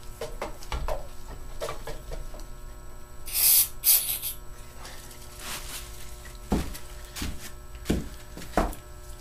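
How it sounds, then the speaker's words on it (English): Cheap electric shop lights bought from Home Depot hum steadily in a workshop where a push mower is being fixed, a constant low tonal drone beneath bursts of spraying hiss and scattered clunks of work. "If you hear that humming noise, that's the stupid lights we got in here."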